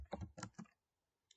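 A few quick, close taps on a computer keyboard while code is typed, three or four clicks followed by a pause and one faint final tap.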